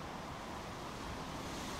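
Wind buffets a microphone outdoors, a steady low rumbling roar with a faint, distant background hiss and no talking.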